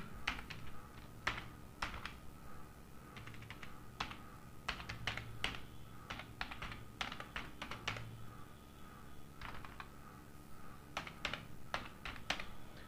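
Fingers type on a computer keyboard in irregular bursts of crisp clicks and taps, with short pauses between runs, close and steady with no one speaking.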